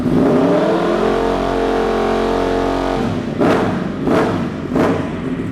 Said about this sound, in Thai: มาฟังเสียงท่อคันนี้กัน อัตราติดง่ายครับ รอบเดินเบา นิ่งนะฮะตาเร่งเป็นไง